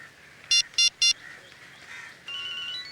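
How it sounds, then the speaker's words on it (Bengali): A mobile phone ringtone sounds nearby: three short, bright electronic beeps in quick succession, then a softer sustained melodic tone begins. "রিং হচ্ছে স্যার।"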